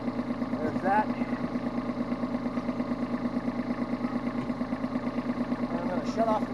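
A tractor engine idles steadily and close by, a constant throbbing rumble that runs the whole time, with a few brief squeaks over it.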